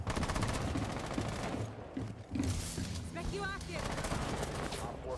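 Rapid automatic gunfire from the tactical shooter game Rainbow Six Siege rattles in dense bursts, with a short lull midway, as voices talk over the shooting.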